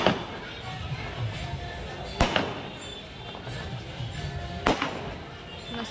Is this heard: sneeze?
no